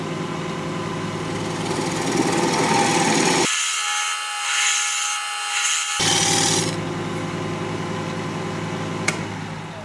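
A turning tool cuts a recess into a cork-from-a-tree wood blank spinning on a lathe at about 1200 rpm, making a steady close rasping scrape with a brief pause partway through, over the continuous hum of the machine.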